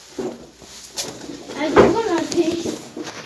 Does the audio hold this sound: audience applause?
no